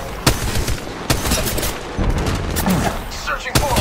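Continuous automatic gunfire in the video game Apex Legends, a team deathmatch, with dense rapid bursts and sharp shot onsets running almost the whole time under faint game voice lines.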